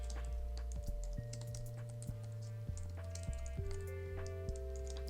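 Steady keystrokes on a computer keyboard while entering text into a file naming field, a quick tapping rhythm with irregular clicks over a sustained low musical tone in the background.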